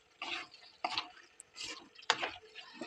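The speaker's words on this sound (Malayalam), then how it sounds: "ആ കളർ കുഴമ്പ് രൂപത്തിൽ ഇളക്കി വറ്റിച്ചെടുക്കുക" A spoon scrapes and stirs a thick food colour paste reducing in a pan, giving four or five short close scraping bursts separated by brief quiet gaps.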